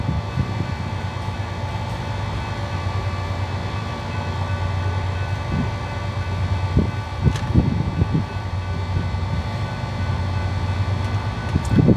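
A freight train passes a siding at Friona, Texas: a long, steady rumble of wheels on rail with scattered clanks and squeals rising toward the end, heard from close by with no talk.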